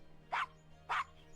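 Dog in the adventure game Gabriel Knight: Sins of the Fathers, 20th Anniversary Edition, giving two short, sharp barks about half a second apart, close and clear over a quiet hum.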